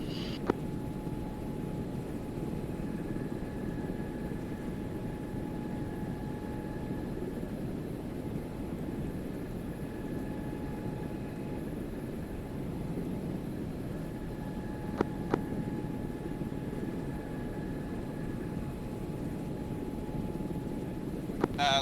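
A Blackhawk helicopter lifts off in a military game with a steady, dense rotor and turbine roar that holds for the whole stretch, a faint tone running beneath it and no one talking.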